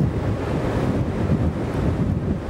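Sea surf washing steadily around a sailing ship on calm, windless open water, a continuous low rushing wash with wind buffeting the microphone, no voices.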